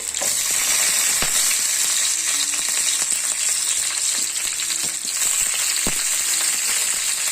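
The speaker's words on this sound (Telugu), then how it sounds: "ఇప్పుడు అంతా ఒకసారి మళ్ళీ కలుపుకోవాలండి" Potato and mint masala gravy sizzles steadily in a hot pan while a spatula stirs it, with scattered clinks and scrapes against the pan close by.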